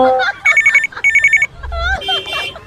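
A telephone rings in two short double-trill bursts, loud and close, followed by a low rumble and brief voices.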